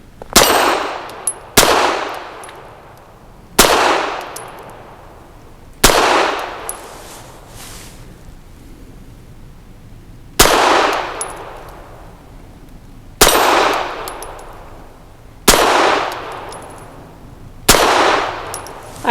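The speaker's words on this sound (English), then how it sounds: "Using that MagTech 95 grain ammo, we've got 8 shots." Walther PD380 pistol fired with 95 grain ammo at a steel spinner target, eight sharp shots spaced a couple of seconds apart, each followed by a ringing metallic clang and short decay, no talk.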